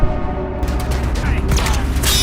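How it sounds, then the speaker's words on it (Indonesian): Gunfire traded in a film shootout, dense bursts of shots and rumbling booms under a busy movie soundtrack, loud and close throughout. "Mereka ini saling melepaskan tembakan"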